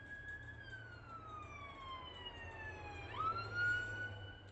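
An ambulance siren wails past, its long falling tones dropping in pitch as the vehicle goes by, loud and continuous over a low background rumble.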